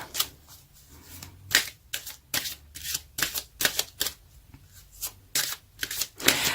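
A deck of tarot cards being shuffled up close, sharp papery riffles and taps repeating in uneven bursts about every half second over a quiet background.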